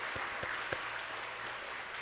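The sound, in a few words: church congregation applause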